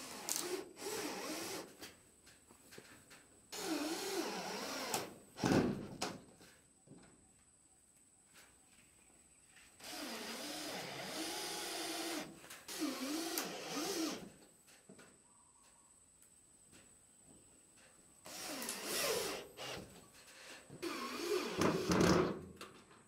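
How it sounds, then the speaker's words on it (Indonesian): A power drill driving gypsum screws to fasten plywood to a frame for a floating hydroponic raft table, in several long whirring bursts separated by quiet gaps and a few knocks, close and without talk. "Kencangkan triplek pada skor dengan menggunakan baut gipsum."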